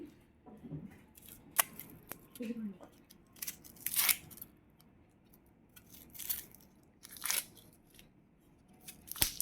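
Green chillies being cut into four pieces in a home kitchen: a series of sharp, separate snips and crunches at an uneven pace, fairly quiet, with a voice murmuring faintly in the background.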